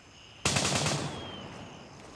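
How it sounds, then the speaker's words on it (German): Automatic gunfire in the military shooter game Gray Zone Warfare, a sudden loud rapid burst lasting about half a second and then fading into a ringing echo. "Ich frage mich, auf was die Idioten schießen, aber man sieht sie gar nicht."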